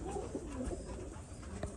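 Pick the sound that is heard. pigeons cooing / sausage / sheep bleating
pigeons cooing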